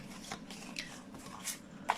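Chakra affirmation cards are shuffled by hand, giving soft, faint papery rustles and a few light flicks for about two seconds, with no talking.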